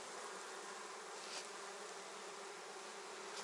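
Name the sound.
honey bees buzzing in a hive in spring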